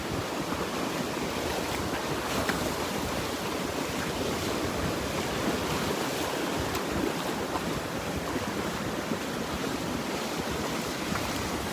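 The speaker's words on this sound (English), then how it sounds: "I think the surf's gonna really pick up here" Steady ocean surf rolling onto a Gulf beach at Delnor-Wiggins on an eroding shoreline, a continuous broad wash of breaking waves with wind buffeting the microphone and no voices.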